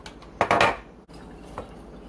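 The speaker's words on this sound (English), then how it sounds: "Stir that all together." Spoon stirring taco pie filling after a cup of chunky salsa goes in, a few quick clinks and scrapes against the pan in a short burst, then quieter, with one more soft knock near the end.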